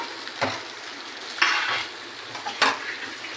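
A ginger, cumin and chilli spice paste fries in a pan for a doi katla fish curry, a soft steady sizzle broken by three sharp scrapes of stirring, close and fairly quiet.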